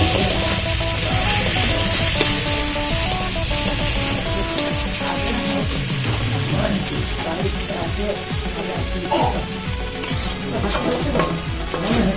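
Chilli powder and spices are stirred in a sizzling frying pan, with steady loud frying and repeated scraping strokes of a spoon throughout and a few brighter clinks near the end.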